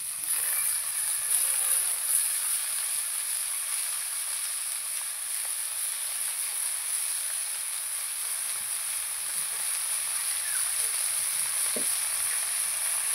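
Fresh, tender beto greens, torn by hand, fry in a pan with a steady, faint hiss of sizzling oil that holds evenly throughout, with no voices.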